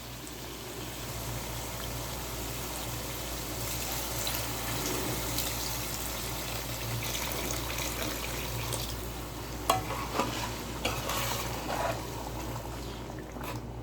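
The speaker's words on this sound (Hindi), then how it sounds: "अब इसमें हम उतना पानी डालेंगे कि अच्छी तरह हमारा गोश्त गल जाए।" Mutton karahi simmering in a pan after water is poured in, a steady low bubbling and sizzle with a low hum beneath, then a few soft clinks near the end, quiet and without voices.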